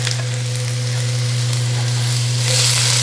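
Onions sizzle and crackle steadily in a hot pan for Korean japchae (sweet potato noodles), a dense continuous frying hiss with no talking.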